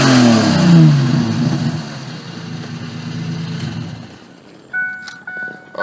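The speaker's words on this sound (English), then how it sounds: "I'll give it a rev for you." A 1999 Ford Explorer Sport engine is revved, a loud close roar that climbs and then falls back toward idle, followed by fainter clicks and small mechanical noises.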